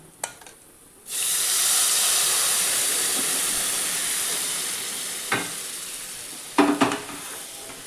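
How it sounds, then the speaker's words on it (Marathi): Cooked dal poured into a hot tempering of turmeric and browned garlic, setting off a loud, sustained sizzle and steam hiss that slowly fades, with a few clatters of stirring near the end. "आपली डाळ शिजलेली ही डाळ घालून देऊ आपण"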